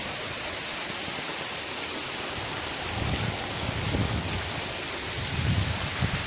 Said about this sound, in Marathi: जो धबधबा पडतो तिथे पोचलो आहे